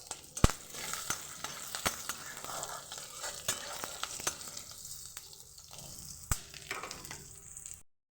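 Chopped garlic, a green chili and nigella seeds fry in a little oil, giving a faint, steady sizzle broken by sharp clicks of a spatula scraping and stirring the pan, then cutting off abruptly.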